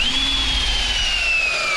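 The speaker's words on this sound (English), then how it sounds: "Let's run 4 more screws." A power drill driving screws into a Trex composite deck during a backyard viewing-deck build whines steadily and loudly at close range for nearly two seconds, with no voices over it.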